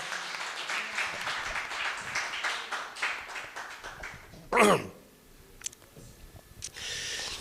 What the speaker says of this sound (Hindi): एक बार जोरदार तालियां, देवदार तालियां,